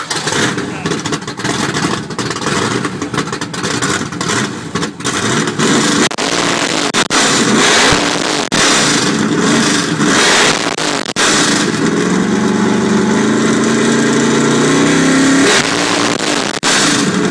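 A 1982 Mustang with a 351 V8 making over 700 horsepower revs loudly at a car show engine revving contest, sustained roaring with rising and falling throttle blips, close and dominant, with crowd noise underneath.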